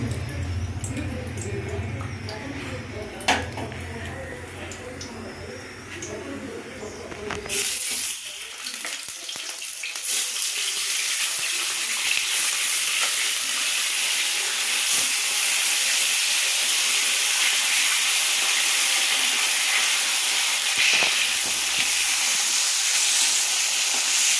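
Cooking oil poured into a hot wok before fish is fried breaks into a loud, continuous sizzle and hiss that starts abruptly and holds steady for a long stretch, after quieter kitchen clatter.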